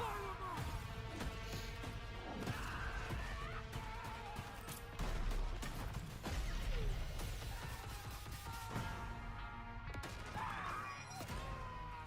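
Sniper rifle shots crack through Call of Duty Vanguard multiplayer combat, with sharp, irregular reports and impacts mixed into a busy bed of battle noise and distant gunfire.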